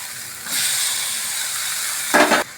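Tomatoes go into a pan of frying onions for fish curry: a soft steady hiss swells, then a sharper, louder burst of sizzling flares briefly near the end.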